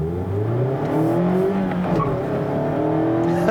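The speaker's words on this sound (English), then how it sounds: "There's a quick little second gear chirp." A 2018 Mazda MX-5 Miata Club pulls hard through second gear, its engine note loud and steady as the rear tires give a quick, brief chirp partway through the run.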